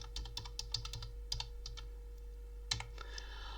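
Keys clatter on a computer keyboard as text is entered into a spreadsheet cell, quick irregular clicks in short bursts with a pause, faint and close over a low steady hum.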